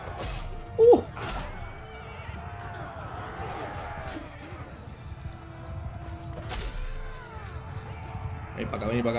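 Horses whinny and snort amid a cavalry battle in Mount & Blade II: Bannerlord, with a sharp neigh early, hoof clatter and combat noise, and someone talking over it.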